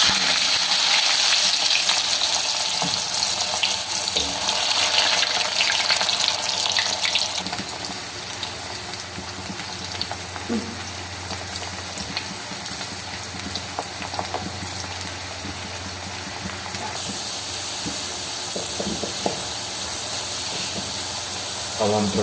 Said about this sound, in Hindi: अब हम इसको जो है ना कढ़ाई में डालेंगे। घी गर्म हो चुका है।